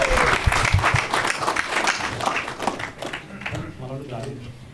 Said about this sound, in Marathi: चला मित्रांनो, पुढच्या ॲक्टसाठी जोरदार टाळ्या फॉर मानस जाडे.